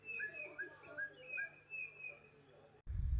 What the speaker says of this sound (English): enjoying all the bird calls